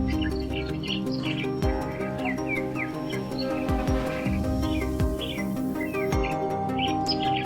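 Migratory birds from northern Asia, Europe and Siberia wintering in India call in a dense chorus of chirps and tweets, several birds near and far at once, with a low steady hum underneath.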